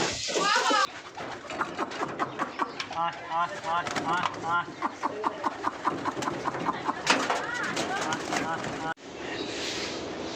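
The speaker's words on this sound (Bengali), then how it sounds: "এই যে আমার কবুতরগুলো সারলাম" Pet pigeons coo repeatedly nearby in soft rolling calls, many birds overlapping in a steady run of throaty phrases before a brief cut to duller noise.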